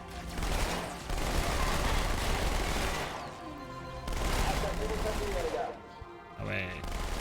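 Heavy gunfire from the Halo 2 Anniversary video game comes in sustained automatic bursts, loud and close, with short lulls between volleys and a few sharper shots near the end.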